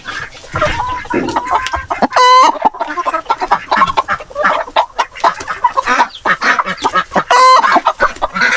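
Black Astronaut and Rhode Island Red chickens cluck repeatedly at close range, with a couple of sharper, drawn-out squawks standing out among the busy clucking.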